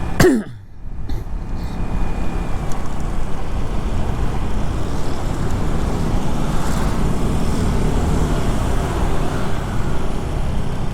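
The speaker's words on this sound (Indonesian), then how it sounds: "Bus wisata." A tour bus rolls past on a road in rural Bali, its engine a steady broad rumble that stays loud and continuous after a brief quieter moment at the start, with general traffic noise around it.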